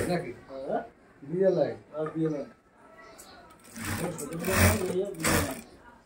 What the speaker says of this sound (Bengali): তো দেখতে পাচ্ছেন খুব সুন্দর করে কিন্তু এখানে সেলাই করা হচ্ছে।